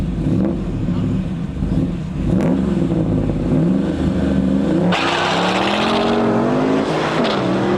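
A Firebird revs and races down a drag strip lane, its loud engine roaring steadily, with a sharp rising surge partway through as it launches hard and accelerates.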